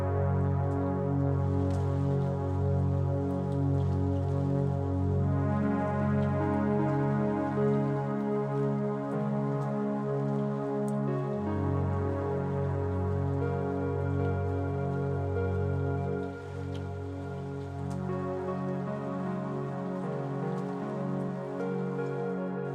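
A looped rain recording on an SP-404 MKII sampler, pitched down into a droning, tonal wash with a pulsing texture, continuous and steady from start to finish.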